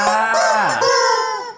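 A rooster crows once, a loud close call with a rising then falling pitch that holds for just over a second before trailing off, heard alone with no talk.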